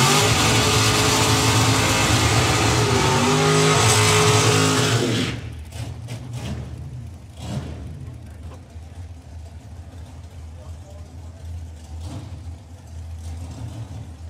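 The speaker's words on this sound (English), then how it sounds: "Joe Kellett with the dragster going alongside Jens Konecki with the Oldsmobile" A dragster and an Oldsmobile launch side by side down a drag strip at a race event, with a roaring, very loud engine blast that cuts off abruptly, leaving crowd ambience and a commentator talking.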